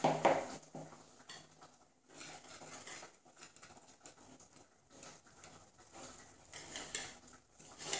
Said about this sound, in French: Maintenant, on mélange.